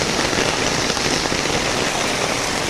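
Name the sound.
heavy rain falling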